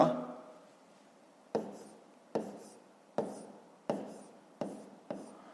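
Pen or chalk writing out a grade-5 math solution for a least common multiple of 16 and 24, heard as a soft rub followed by six short, evenly spaced strokes, each sharp at onset and fading, close and quiet with no talk over them.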